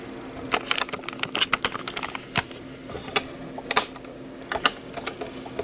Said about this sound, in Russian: Сейчас проверим клаву.